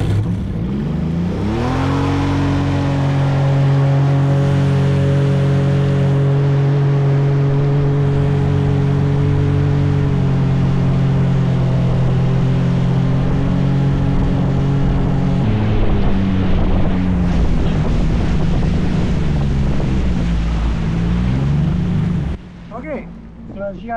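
An aluminum dinghy with an outboard motor runs loud and close, the engine revving up and holding a steady drone while the hull planes off over the water, then the pitch drops and wavers before the throttle eases near the end.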